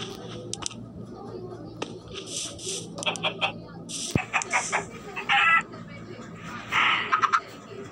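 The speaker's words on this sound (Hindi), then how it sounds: "अब गाइस टाइम आ चुका है मुर्गियों को लाने" Chickens cluck in short bursts alongside sharper bird calls, scattered and moderately close over a low rural background.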